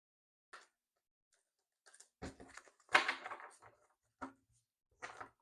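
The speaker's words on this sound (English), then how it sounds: "One more shuffle here." A deck of tarot cards is shuffled by hand, giving soft scattered taps and a brief rustling riffle burst in the middle, quiet and close with silence between, no talking.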